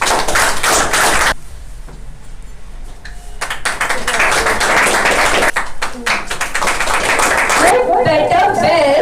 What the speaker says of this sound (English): So big round of applause for Star of the Month from Kids Batch,